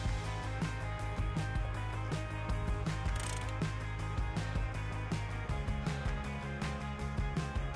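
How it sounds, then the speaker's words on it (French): A hand winch lowers the outfeed conveyor of a Red Runner Standard XL, its ratchet pawl clicking in a fast, steady rhythm over a continuous mechanical hum, loud and close throughout with no voices. "vous devez utiliser le treuil pour abaisser le convoyeur de sortie"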